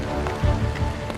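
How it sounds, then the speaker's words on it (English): Ice crystals striking the airframe of an airliner in flight, picked up on a cockpit recording: a steady hissing, rain-like patter that stays loud throughout the brief stretch, with no voices. "Experts analyzing the black box tape believe it's the sound of ice crystals hitting the aircraft."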